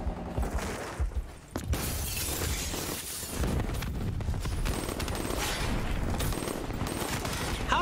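Rapid gunfire in a video game, dense overlapping shots and impact crashes filling the whole stretch at loud, steady level with no talk.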